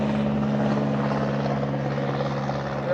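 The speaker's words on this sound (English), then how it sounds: "never have I seen this many airplanes fly over." Aircraft passing overhead outdoors, a loud steady engine drone with strong low tonal hum holding for the full three seconds, no talk over it.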